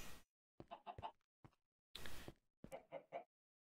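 Chickens in Minecraft's Sky Factory 3 modpack cluck in several short bursts of clipped, close, fairly loud cackles separated by silent gaps.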